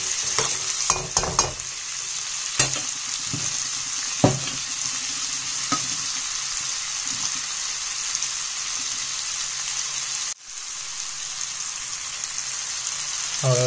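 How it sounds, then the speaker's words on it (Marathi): Tomato and onion tempering for a cashew-seed vegetable dish frying in a pan, a continuous loud sizzle with scattered clinks and scrapes of stirring early on, a brief dip partway, and no talk. "टोमॅटो आणि कांद्याची फोडणी दिलेली आहे."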